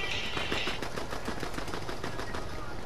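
Rapid bursts of gunfire in Fortnite, a dense, steady rattle of repeated shots at moderate distance, continuous for a few seconds with no talk.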